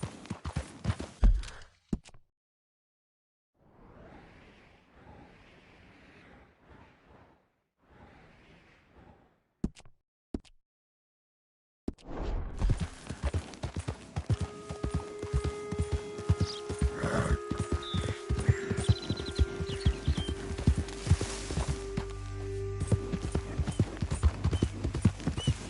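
Horse hooves in Red Dead Redemption 2 thud in a quick, steady clip-clop from about the midpoint onward, loud and close. Earlier, a few hits and faint noise are separated by near silence.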